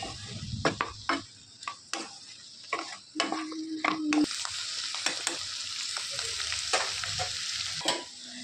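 A spatula stirs bottle gourd curry with lentil bori in a pan over a constant sizzle, with irregular scraping strokes and a short metallic ring midway.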